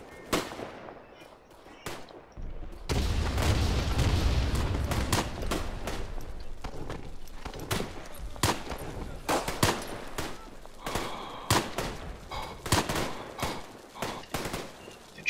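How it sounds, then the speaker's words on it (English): Mortar rounds strike a dugout in the WWI video game Tannenberg, with repeated heavy thuds and blasts over a rumbling battlefield alongside sharp scattered gunfire, close and loud. "Dropping mortars right on that dugout again."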